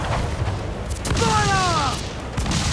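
Ship cannons firing during a naval battle in Assassin's Creed IV Black Flag boom in a low, rumbling barrage under shouted orders from the crew.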